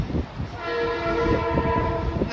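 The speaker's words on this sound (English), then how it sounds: "we got a train coming" A train rumbles nearby at Stamford train station, heard from the parking garage roof, with rhythmic clatter on the rails and a sustained horn sounding over it, growing steadily louder throughout.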